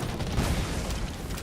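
A bomb blast in the shooter game Undawn: a dense, rumbling low boom that fills the short moment, loud and close, with no talk over it.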